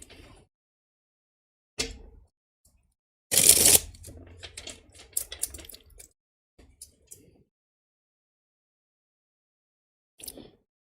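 Tarot cards riffle in a quick papery burst, followed by scattered soft taps and flicks, then quiet pauses and one brief shuffle near the end.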